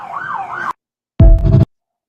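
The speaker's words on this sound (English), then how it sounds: "why is he worried about the sirens?" Emergency vehicle siren wailing loud and close in a rising-falling sweep, cutting off abruptly, then after a gap a short burst of louder siren with heavy low rumble, as from a passing police or ambulance unit responding to a gunshot wound call.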